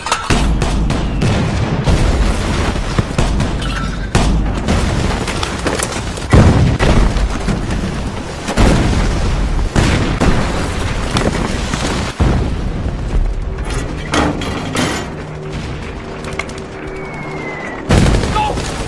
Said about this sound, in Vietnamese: Ra lệnh cho pháo binh đến lô cốt ở giữa